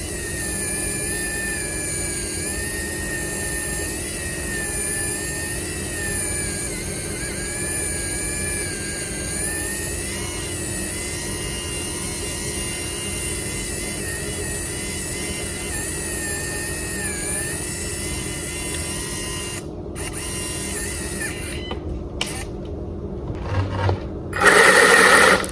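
An electric winch on a Laegendary Grando RC car winds continuously with a steady high whine and faint wavering pitch for over twenty seconds, near and clear, ending with a few sharp clunks and handling noises.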